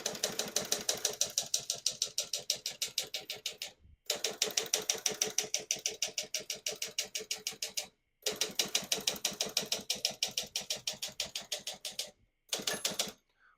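A 1965 Hermes 9 desktop typewriter typed steadily in rapid, even keystrokes, close and clear, broken by brief pauses for carriage returns; the margin bell rings near the end of a line.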